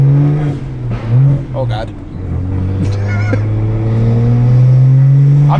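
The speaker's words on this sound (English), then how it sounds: "I'm gonna shift gears for the first time here." A BMW E90 335i with a new clutch accelerates and shifts gears, its engine note rising and dropping across the changes, loud and close from inside the car, with a voice speaking briefly over it.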